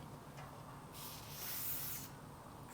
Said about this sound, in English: So we're going to spray some